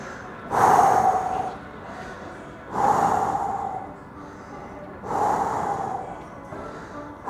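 Three slow, deep breaths, each a loud breathy inhale-exhale with a slight snort, spaced about two seconds apart, taken close up during a stretching exercise with quiet gaps between.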